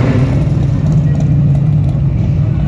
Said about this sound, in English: That ain't a stock exhaust.